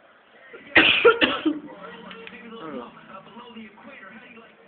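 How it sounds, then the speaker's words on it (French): A close, harsh double cough bursts out, followed by a low murmur of throat sounds and quiet voice. "c'est moi qui ai toussé"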